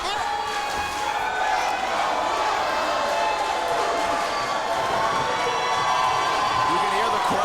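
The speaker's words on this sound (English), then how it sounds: "You can hear the crowd." A professional wrestling arena crowd cheers and roars in a steady, loud swell with whoops and claps as a championship match builds, and a commentator talks over the noise.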